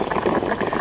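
Water boiling steadily in a survival still, a dense, continuous bubbling close by with no voices.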